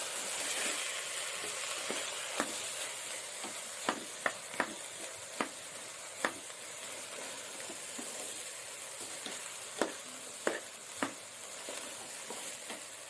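Masala for egg biryani is stirred in a pan, a soft sizzle running underneath sharp, scattered scrapes and knocks of the spoon against the metal, fairly quiet and close, with no voices.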